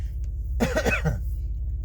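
A single short cough, close and fairly clear, with a throaty quality, surrounded by a low background hum.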